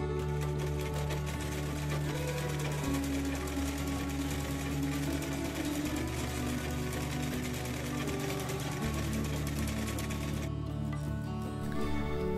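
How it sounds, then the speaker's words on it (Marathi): A sewing machine runs steadily for the full stretch, stitching a seam on a maxi gown with a dense, even mechanical whir. It stays close and loud with no talk, and it changes slightly near the end. "आता हे ओपन करून ह्याच्यावर दाबटीप मारून घ्यायची."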